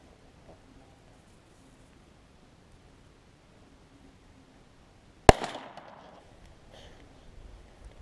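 A single rifle shot fires past a Labradar Doppler radar chronograph, a sharp, loud crack after several seconds of quiet outdoor hiss, followed by a brief fading rumble and faint rustling.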